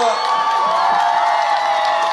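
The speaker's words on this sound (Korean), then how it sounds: "뜨거운 박수로 맞이해 주시기 바랍니다" A large outdoor crowd in Geoje cheers and whoops as presidential candidate Lee Jae-myung arrives at a campaign rally, a dense, loud, continuous roar with an amplified voice ringing over it.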